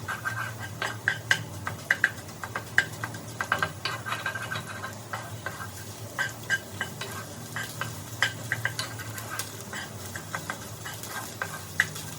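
Continuous sizzle of egg and vegetables frying in a pan for fried rice, with frequent scraping and clinking of a utensil stirring, close and busy throughout.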